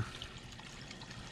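Water trickles from a small pond waterfall in an animal enclosure, a soft, steady dribbling splash that is faint and continuous over a brief stretch, with no voices.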